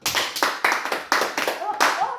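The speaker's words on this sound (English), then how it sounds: "Alright, give mommy a big clap." A quick burst of hand clapping, about nine or ten sharp claps in a brisk, slightly uneven rhythm, close by.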